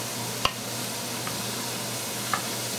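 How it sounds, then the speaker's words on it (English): Leek and sweet potato sauté over high heat in a pan for soup, giving a steady close sizzle with a few sharp clicks from wooden lifters scraping or tapping. "I always have the heat up high to start with to kind of get the heat into the stuff you're sauteing."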